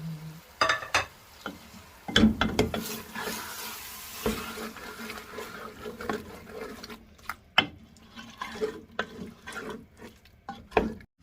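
Chicken karahi with grated tomato and ginger sautéing in a pan, a wet low sizzle broken by irregular spoon clatters and scrapes, some sharp knocks against the pan, close up with no talking.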